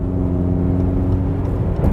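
A BMW X5 M with a sport exhaust and a 555-horsepower engine, heard from inside on the road: a steady, loud, deep engine drone with a rumbling low-frequency tone that holds throughout without pause.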